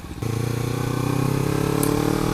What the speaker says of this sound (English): One, the bike I'm riding. The Ninja 300 is amazing.